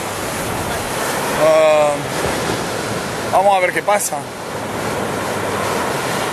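Sea waves rising at a nautical club in Cabrera, heard as a steady broadband wash of surf mixed with wind noise, close and continuous, with someone speaking briefly over it.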